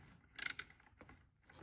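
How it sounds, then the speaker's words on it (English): Faint ratchet clicks from a wrench loosening a 10 mm nut on a Jeep Grand Cherokee 3.6L upper intake manifold, a short cluster of quick metallic ticks followed by a few softer clicks. "It's going to be a 10 millimeter, and we're going to remove that nut."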